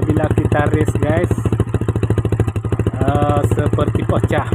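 A Benelli 150S motorcycle with a cut exhaust runs loud and rough with repeated revving surges, voices talking over it throughout.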